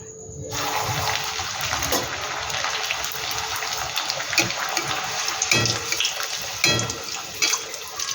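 Luchi frying one by one in hot oil, a loud continuous sizzle and bubbling with a few sharper pops and splashes as pieces go in.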